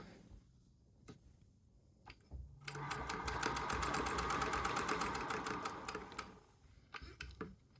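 A vintage sewing machine with a darning and embroidery attachment runs in a steady rapid stitching burst for a few seconds, with faint clicks and handling before and after.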